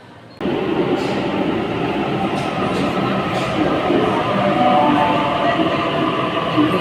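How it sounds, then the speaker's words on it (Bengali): A train pulls into a station platform in Sydney, a steady broadband rumble of wheels and carriages rising abruptly and holding loud and close, with faint squeals near the end as it slows. "নির্ধারিত সময়ে ট্রেন প্ল্যাটফর্মে এসে থামছে।"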